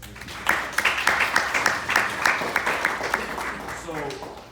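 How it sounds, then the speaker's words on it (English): A room of guests at an evening interview event gives a round of applause, with individual claps standing out near the front, while a voice speaks over it toward the end. "let's give our guests a round of applause for attending tonight"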